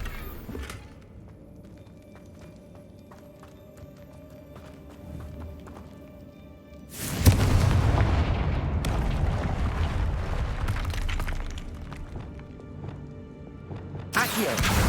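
Bombarda and Confringo blasting spells erupt in Hogwarts Legacy: a sudden loud explosive burst midway gives way to a long rumbling roar of debris and crackle, with a second blast hitting near the end after a quieter stretch.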